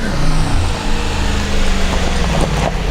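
A Mercedes-AMG G 63 drives up with a steady, loud engine rumble that swells and eases slightly as it approaches. No one speaks.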